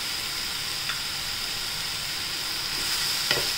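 Red chili powder, turmeric, coriander powder and garam masala sizzle in oil in a pan, a soft continuous hiss with a couple of faint stirring scrapes, no voices.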